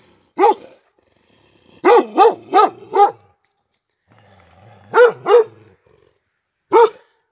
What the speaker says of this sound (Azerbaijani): Deyəsən bozlara hürürlər